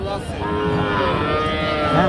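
A Shankha breed dairy cow with her heifer calf at the Chaugachha cattle market in Jessore lets out one long, loud, drawn-out moo close by, with market murmur in the background.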